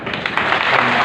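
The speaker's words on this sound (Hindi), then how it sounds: "आपके लिए ताली बजा।" A brief, close burst of audience clapping at a live religious darbar gathering, a quick dense patter lasting about a second.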